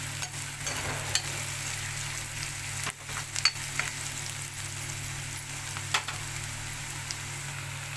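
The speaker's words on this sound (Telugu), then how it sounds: "ఉల్లిపాయ ముక్కలు వేసుకోవాలండి ఆనియన్స్ వేసుకున్నాం కదండి ఇప్పుడు ఇవి మగ్గించుకోవాలండి బాగా" Finely chopped onion pieces sautéing in oil in a pan for fish curry, a steady soft sizzle with occasional stirring scrapes and taps, close and fairly quiet with no talking.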